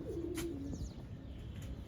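Pigeons of a prized breed coo in a low, rolling call that rises and fades, heard close by over a steady background hum with a few faint chirps.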